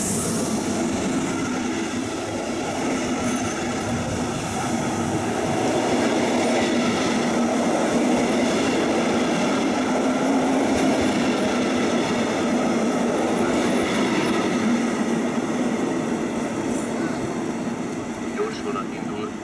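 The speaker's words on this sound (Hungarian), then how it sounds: "Sebes vonat érkezik Tapolcáról" A fast train from Tapolca rolls into Budapest Kelenföld station, with a rumble of wheels on the rails and faint squeals and clacks, and voices talk over the noise.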